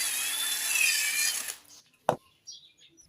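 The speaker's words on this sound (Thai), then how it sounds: "ใช้สว่านหมุนรอบๆนิดนึงครับ" An electric drill whirs steadily at close range for about a second and a half while widening a hole to fit a new umbrella handle, then stops, followed by a sharp knock and light handling noises.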